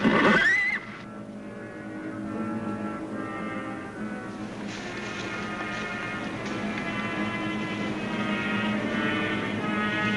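A horse gives a loud, sharp whinny at the start, then a sustained mix of hoofbeats and a low rumble follows at moderate volume, like a Western chase scene on television.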